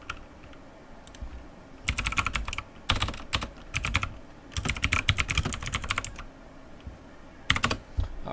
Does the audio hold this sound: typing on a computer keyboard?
yes